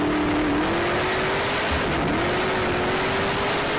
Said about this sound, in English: Oh, that's a Mustang.